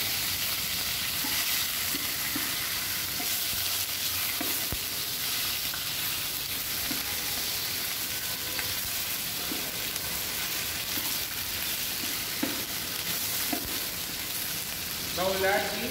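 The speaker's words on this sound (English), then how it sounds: "when you add the bones, make sure the bones are nicely browned" Chicken bones brown in a hot pan with a loud, continuous sizzle and crackle that stays steady throughout, with occasional stirring knocks and a brief clatter near the end.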